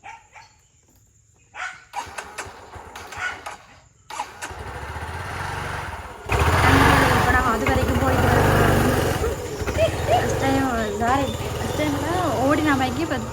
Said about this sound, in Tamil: இன்றைக்கு நாங்கள் பைக் ஓட போகிறோம்